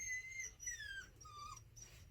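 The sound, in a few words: dog whining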